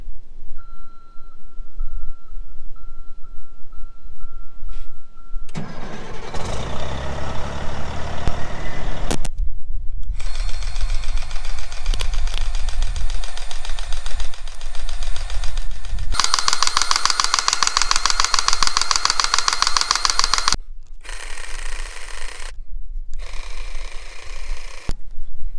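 A grapple truck's diesel engine cranks and fires up, then runs loud and steady at close range, its revving and idling interrupted by a few abrupt cuts, with no talking.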